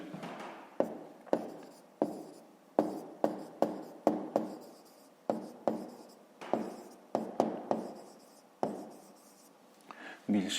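A pen writes down the answer to a fifth-grade maths exercise on paper, making a series of short, crisp scratching strokes that come in quick irregular bursts and are close and fairly quiet.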